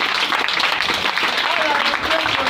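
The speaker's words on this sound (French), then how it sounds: "Acclamons Jésus." A church congregation breaks into sustained applause, loud and close, with a voice carrying over the clapping.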